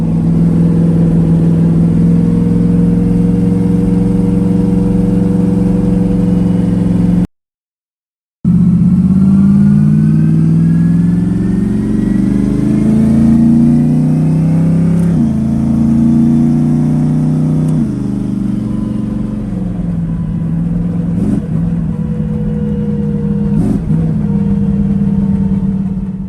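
Twin-turbo Ford Coyote V8 in a car, starting up and idling loud and close, then revving with rising pitch as it drives off, several throttle blips and shifts, with no talking over it.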